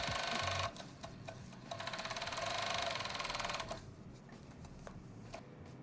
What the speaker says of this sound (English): make sure you pull the waistband while you're serging